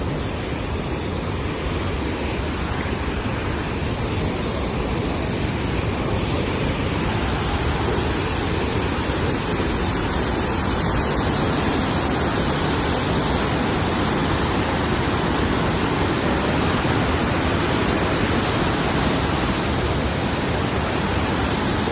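A powerful, continuous roar of rushing water, loud and steady throughout with no pauses, like a torrent pouring through a dam spillway.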